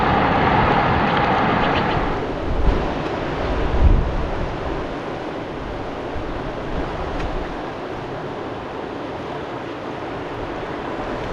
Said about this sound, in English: The wind has come up.